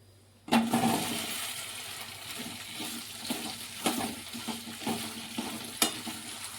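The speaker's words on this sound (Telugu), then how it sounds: "ఇప్పుడైతే మనం బెండకాయలను అయితే లైట్గా ఫ్రై చేసుకోవాలి" Okra pieces drop into hot oil with a sudden loud burst of sizzling that settles into a steady fry, punctuated by intermittent stirring scrapes and knocks.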